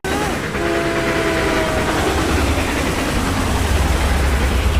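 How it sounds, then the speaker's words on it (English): A train rumbles past with a deep, steady low roar, its horn blowing in long sustained tones early on, loud and close. "There's an old black train coming, scraping along the iron"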